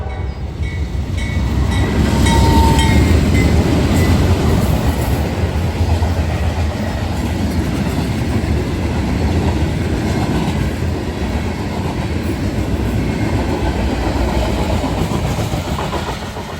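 A passing train, engine 423, rolls by on the rails as a loud, steady rumble with rhythmic wheel clatter and a brief high squeal, sustained close throughout.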